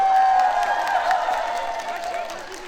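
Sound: crowd applause

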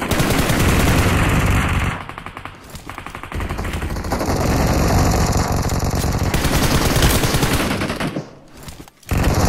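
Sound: gunfire during a fight in a zombies mode video game

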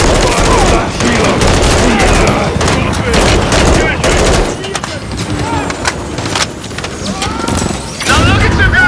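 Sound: machine gun fire at a helicopter in COD Modern Warfare 3 video game

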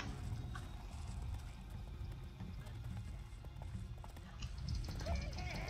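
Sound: horses running and neighing in video game Overlord

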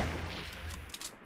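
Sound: gunfire in Fortnite video game

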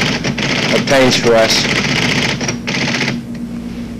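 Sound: typing on a computer terminal keyboard in APL

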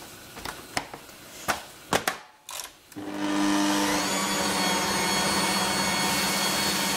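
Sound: electric mixer whisking meringue

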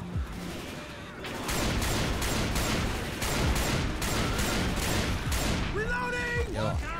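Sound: auto shotgun gunfire in a video game

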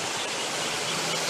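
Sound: small waterfall in a Chinese-style garden

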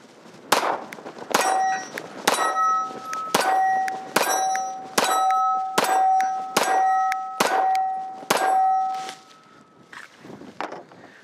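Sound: Sig P365 9mm pistol shots hitting steel targets at 10 yards

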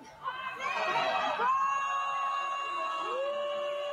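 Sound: concert crowd yelling at singer to sing

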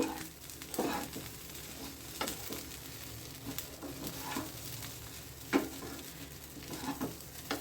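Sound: stirring ghee into oats in a pan

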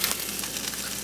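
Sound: pizza frying in a frying pan

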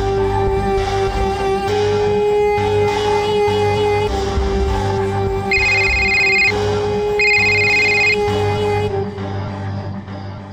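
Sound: telephone ringing

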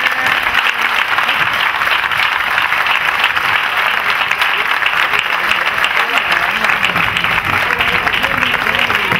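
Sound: applause

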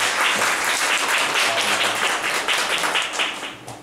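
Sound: audience applause welcoming a speaker

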